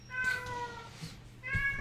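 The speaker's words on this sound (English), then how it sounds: "There is a very vocal cat over there." A very vocal cat meows twice nearby, each call a clear harmonic cry, the second after a short pause, over a low background hum.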